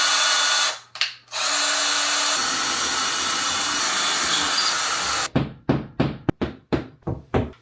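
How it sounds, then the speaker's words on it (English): A power drill whirs steadily up close while drilling during an office makeover, dips briefly, then runs on before giving way to a quick series of sharp knocks. "So all I have to do is just drill."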